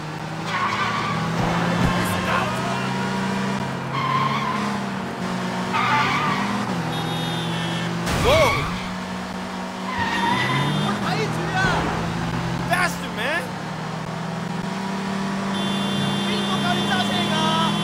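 A car in the video game Sleeping Dogs driving off with engine tones rising and falling and repeated tire squeals and skids, including a loud burst midway, while a voice talks over it.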